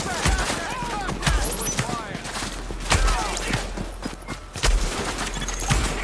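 Gunfire from The Division video game pops in spaced, punchy bursts roughly once a second. A voice talks over it.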